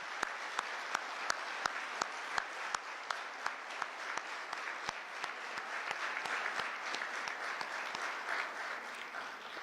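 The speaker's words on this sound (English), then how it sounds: "give a big round of applause to all of them" A crowd claps steadily in sustained applause, dense and even, with a few sharper claps standing out near the start.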